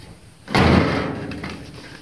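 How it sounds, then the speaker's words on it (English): Door of a 1966 Ford Bronco under restoration swinging slowly on its adjusted hinge, a single close, solid thud-like swell that fades over about a second and a half. "I'm just going to push the door up kind of slow"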